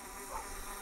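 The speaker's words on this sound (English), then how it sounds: "I want to see how many bees attack" Bees in the video game Minecraft give off a faint, steady insect buzz, a continuous drone with slight wavering and no clear breaks over the short stretch.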